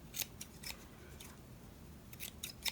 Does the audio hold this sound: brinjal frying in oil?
no